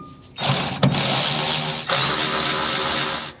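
A power tool tightening a Wilwood four-piston brake caliper bolt on a 1967 Ford Mustang disc brake upgrade, two loud close bursts of whirring, ratcheting drive, the first brief and the second longer and steady.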